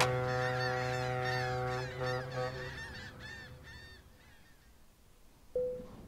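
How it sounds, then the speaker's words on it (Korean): Seagulls in Euro Truck Simulator 2 give a long run of shrill, wailing cries that break into quicker repeated calls, then fade, ending with one short tonal blip. "저 갈매기 소리가 누가 비명 지르는 줄 알았어요."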